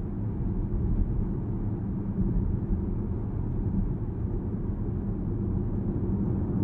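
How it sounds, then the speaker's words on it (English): Tire hum inside a Porsche Panamera GTS Sport Turismo cabin while driving: a steady, low, droning rumble with a muffled road roar that stays even throughout, with no talking. "The tires just kind of hum away in the background."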